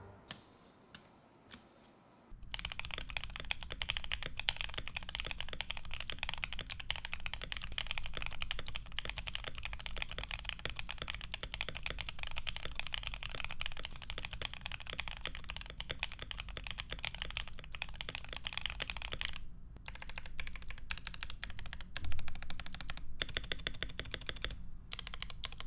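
Steady, close typing on an ASUS ROG Azoth mechanical gaming keyboard, a dense stream of clicky keystrokes after a few isolated taps, with short pauses near the end.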